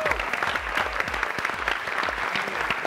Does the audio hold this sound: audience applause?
yes